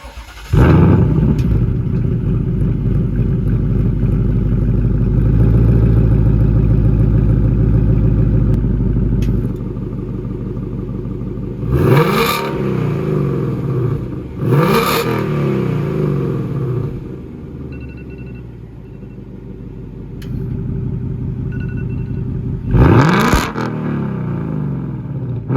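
A sports car with a 10-speed automatic, exhaust set to track mode: a loud, close, steady rumble broken by three sharp throttle blips that roar up and drop away.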